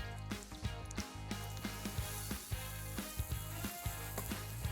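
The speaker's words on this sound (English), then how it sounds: "Now we're just going to add our shallots in here." Shallots dropped into melted butter in an Instant Pot on saute, a soft, close sizzle with a series of regular rhythmic thumps and pulses repeating beneath it.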